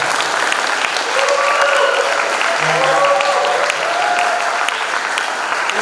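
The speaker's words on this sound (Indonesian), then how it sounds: "Kita berikan tepuk tangan buat panitia Lustrum" An audience at a school alumni event for the 60th anniversary of SMA Katolik Fratera breaks into sustained applause, a dense even patter of many hands clapping nearby for several seconds, with faint voices mixed in.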